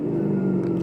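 A V6 car engine holds a steady, loud rev close by, a smooth low droning hum with a strong even tone and no pauses for the whole short moment.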